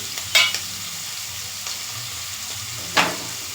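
Onion and green chilli sizzle in hot oil for a tempering, a steady crackling fry broken by a few sharp stirring clatters against the pan, close and alone.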